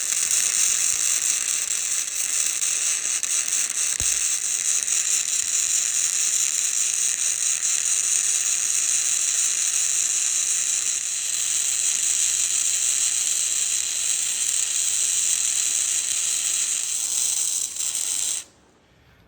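Steel gussets are being welded onto a mini excavator rake, producing a steady, loud high crackling hiss that runs continuously for about eighteen seconds before cutting off abruptly.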